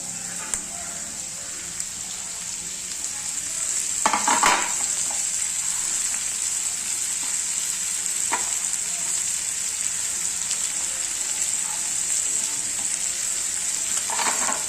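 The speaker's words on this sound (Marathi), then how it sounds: "आता आहे ना कांदा बघा ब्राऊन कलर होईपर्यंत भाजत आलेला आहे" Onion and tomato fry in a pan, the browned onion crackling in a continuous sizzle with a few sharp stirring clatters, alone and without talk.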